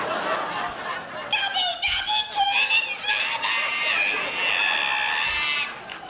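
A voice imitates a squeaky ironing board being opened, a long, shrill, wavering screech like a witch boiled in oil, with the crowd laughing around it.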